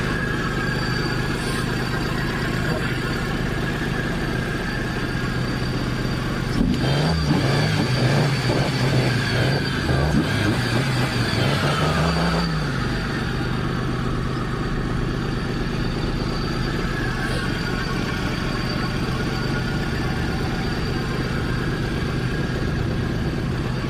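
A car engine idles with a steady rumble, then revs up and down several times in quick bursts before settling back to idle.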